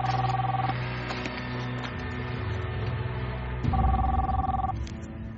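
A mobile phone rings with a repeating electronic tone, sounding twice, set in an indoor drama scene under a low hum and background music, no talk.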